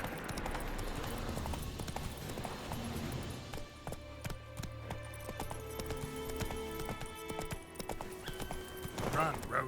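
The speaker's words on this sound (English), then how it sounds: "Run, Roach" Rhythmic hoofbeats of a horse galloping in The Witcher 3, steady clip-clop under game music and ambience with occasional whinnies and a voice speaking over it.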